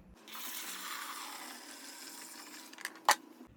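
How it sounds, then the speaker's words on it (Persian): Cleaning solution of liquid and warm water poured into the tank of a rental carpet and upholstery cleaning machine, a steady splashing pour lasting about three seconds, then a brief knock. "محلول مایع و آبی که درست کردیم و بریزیم توی این محفظه"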